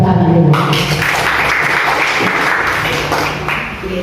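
A crowd gathered at a kindergarten (TK Al-Fitrah) claps for the teachers in loud, close, continuous applause that holds steady and then tapers slightly near the end.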